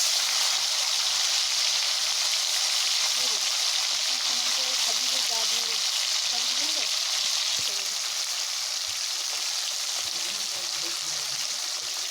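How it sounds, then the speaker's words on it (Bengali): Loitta fish fry in hot mustard oil in a wok with a steady, dense sizzle throughout, while a quiet voice murmurs faintly beneath it. "তেল গরম হলে এবার মাছগুলোকে একে একে দিয়ে দেবো ভাজার জন্যে"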